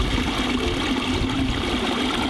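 Steady rushing splash of a small garden pond waterfall with three drops into pooling areas, fed by an adjustable 5,000–9,000 GPH pump from a bio falls; continuous, close and fairly loud with no talk.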